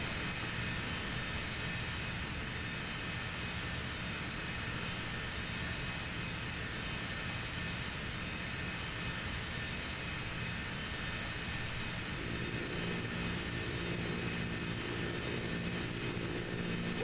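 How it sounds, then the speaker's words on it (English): A plane's engine in the Sonic Adventure video game drones in a steady, faint hum with a low tonal whine that keeps going throughout. "Whoa, Tails, where'd you get that cool looking plane?"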